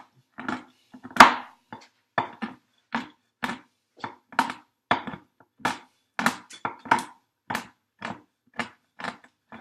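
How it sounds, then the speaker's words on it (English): A knife dices ingredients for banana and chocolate protein bars into smaller pieces, producing a regular series of crisp, close chops about twice a second, with one harder knock early on and no talk. "Just dicing it up into smaller pieces."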